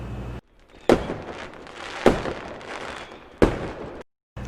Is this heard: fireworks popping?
yes